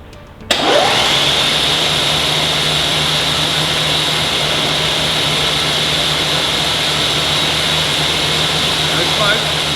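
Electric motors of an M45 Quadmount gun turret on a restored halftrack switch on abruptly and run as a loud, steady whirring drone with a persistent hum, continuing unbroken to the end.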